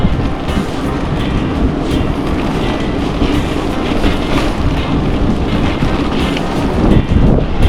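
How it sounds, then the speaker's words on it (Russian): Strong wind roars steadily and loudly across the microphone outdoors on a dusty road, a dense continuous rush that buffets throughout with no voices. "Теперь этот ветер в спину гонит пылюку."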